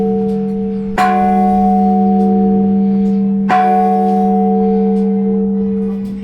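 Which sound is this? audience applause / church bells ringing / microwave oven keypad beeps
church bells ringing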